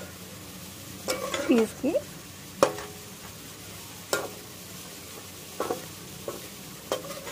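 Beetroot pieces fry in hot oil with salt and are stirred, giving soft sizzling under scattered scraping clinks of a spoon against the pan, with a brief word of speech.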